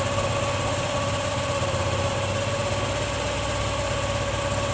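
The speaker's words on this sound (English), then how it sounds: "This is the point where I am getting the maximum RPM." A bike or scooter engine running steadily at high RPM during carburetor idle and air-fuel mixture screw tuning, with a continuous close droning hum that stays even throughout and has no voices over it.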